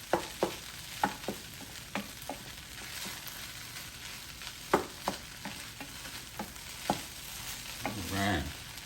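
Turkey fried rice being stirred in a Power XL cooker: a quiet background sizzle with a series of irregular scraping and clinking spoon strokes, close and moderately soft, ending in a brief louder rustle, no talking.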